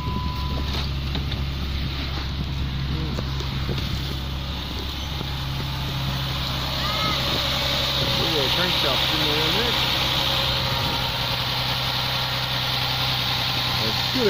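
A 3.7-litre V6 in a 4WD Dodge Nitro SXT with 114,000 km, no power steering and a suspect harmonic balancer idles with a steady, even low hum throughout, with wind buffeting the microphone.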